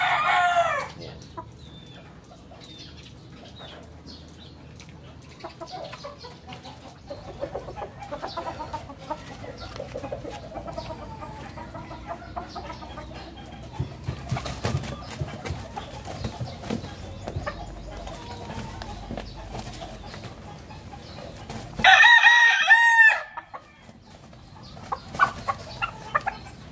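Kelso gamefowl in a backyard breeding setup cluck softly and intermittently, then a rooster lets out a loud crow near the end amid scattered clucks and faint rustling, with no talk.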